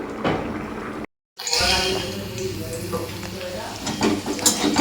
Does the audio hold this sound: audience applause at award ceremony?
no